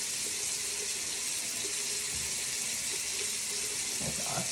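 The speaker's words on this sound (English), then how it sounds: "I know that water's probably loud for you." Water runs steadily from a tap into a sink, a constant broadband rush filling the whole stretch, close and fairly loud with no talk over it.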